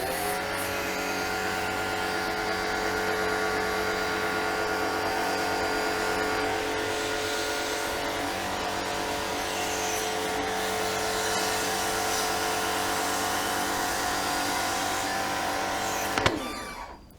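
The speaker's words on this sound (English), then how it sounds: "the pressure washer" A MUC-OFF low-pressure bike pressure washer with a long hose runs as a steady, loud, close motor hum with a constant spray hiss for about sixteen seconds, then cuts off abruptly.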